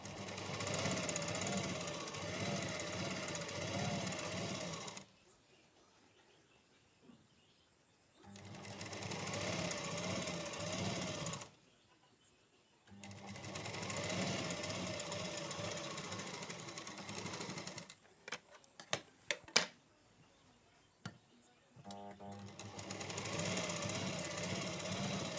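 A sewing machine stitches fabric for a buff sleeve in several bursts of steady, rapid whirring, separated by quiet pauses, with a few sharp clicks in between. The sound is close and clear.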